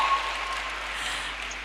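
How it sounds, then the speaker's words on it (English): Audience applause at a college summit, a steady, dense wash of clapping that holds at an even level throughout with no talk over it. "A big round of applause for yourself."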